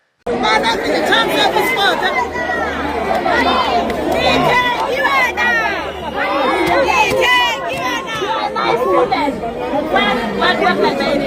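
Loud, dense crowd chatter and overlapping shouting voices fill a protest march in Cape Town, close and continuous throughout, with many people talking at once.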